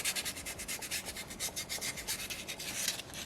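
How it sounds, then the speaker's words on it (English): Soapstone orca carving being sanded by hand, a steady close scraping rub in quick repeated strokes that pulse back and forth without pause, with no talking. "the best way to do it is to sand it."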